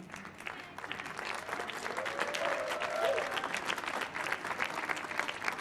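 Audience applause at a family stage performance, a dense, steady patter of many hands clapping that swells slightly and holds throughout.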